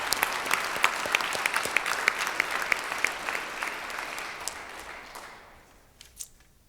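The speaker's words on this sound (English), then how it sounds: "Let's give those folks a hand," An audience at a Rotary meeting breaks into sustained applause for veterans, steady clapping filling the room before tapering off into quiet near the end.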